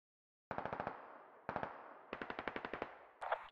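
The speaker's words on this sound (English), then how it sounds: "This is 4, we're taking fire from the east as well." Automatic gunfire in the squad-based military shooter Squad fires in four rapid bursts with short gaps between them, loud and crisp, with no voices.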